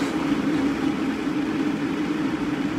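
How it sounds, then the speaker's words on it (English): A blender runs on its low setting while blending vegan cheese sauce, making a loud, continuous whirring drone with a steady hum that stays even throughout, with no talking. "Put the lid to the blender. I always like to put it on low to start it off."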